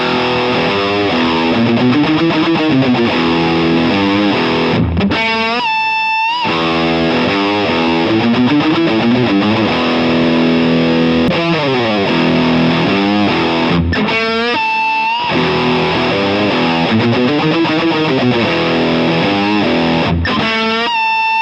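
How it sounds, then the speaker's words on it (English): A loud, heavily distorted electric guitar riff played through a Wampler Triple Wreck pedal, a Les Paul or SG in a tone comparison, with chugging, sustained chords broken by a few short stops. "We're going to use our Wampler triple rec to give a bunch of distortion again,"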